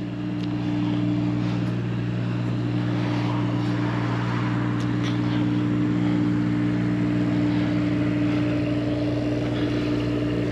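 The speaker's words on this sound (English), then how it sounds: "8 kW Onan diesel generator powering everything inside right now." Steady low hum and drone of an 8 kW Onan diesel generator running aboard a 2005 Holiday Rambler Ambassador diesel motorhome, constant and unbroken throughout at moderate loudness, with no talk.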